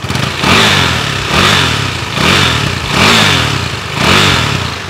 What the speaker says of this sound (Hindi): सिंगल सिलेंडर साउंड है इसमें।